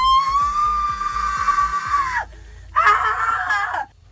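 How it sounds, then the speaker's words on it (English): A woman screams from inside a police car, loud and close, in one long sustained wail, then a brief pause and a second shorter scream that fades out. "he could hear the screams coming from inside the car"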